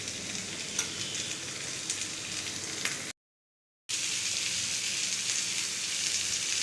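Capsicum hits a pan of fried rice with steady, close sizzling and frying crackle that runs continuously, broken by a brief gap of silence partway through, with no talking.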